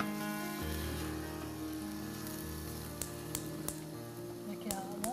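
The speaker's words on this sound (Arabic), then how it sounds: "عنا البصل عم يتقلى" Chopped onions frying steadily in a pan for a vegetable pizza, a continuous broadband sizzle held at even level under a low background hum, with a few sharp pops and clicks near the end.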